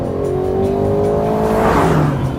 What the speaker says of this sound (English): you can replace that roar with the sound of the engine